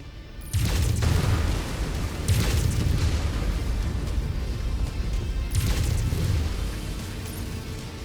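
A derelict plant's backup generator explodes in the MechWarrior 5 video game, bringing a heavy booming blast followed by rumbling, with further deep explosions striking twice more over a continuous low roar, all without speech.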